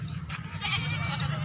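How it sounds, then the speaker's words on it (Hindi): A goat bleats at a busy livestock market, a wavering cry rising over steady low crowd and animal noise, close and fairly loud. "तो ये बकरी है"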